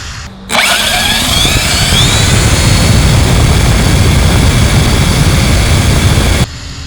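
An electric RC car on a 4S battery with stock gearing runs its motor at full throttle, a loud, steady high whine with rising pitch sweeps at the start, sustained for several seconds and then cut off abruptly.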